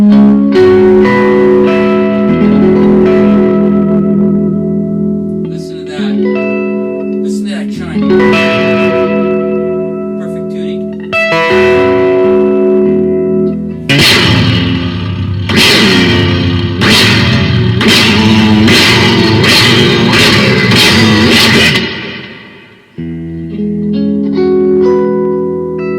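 A handcrafted Stratocaster prototype electric guitar plays through effects, with loud, reverb- and echo-soaked chords and lines, sustained swells, and a burst of rapid repeated strummed hits near the end before a short pause.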